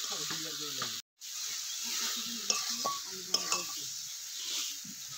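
Jujubes (kul) frying in oil with Kashmiri chili powder for a village-style pickle, a continuous sizzle with a spoon stirring and clinking against the pan, broken by a brief gap of silence.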